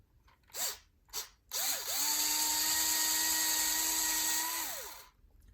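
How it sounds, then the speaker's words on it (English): A power drill revs in two short bursts, then runs steadily for about three seconds at a high whine before winding down and stopping. "I think I can go up one more drill bit"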